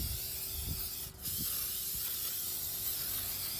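Engine degreaser sprayed onto dirty car wheel rims being prepped for paint: a steady close hiss running the whole time, with one brief break near the start and a few faint knocks underneath.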